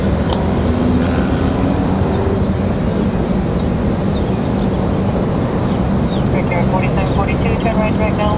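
A Republic Airways jet departs Raleigh Durham International, its engine roar a steady, loud, broadband rumble throughout, with people talking over it.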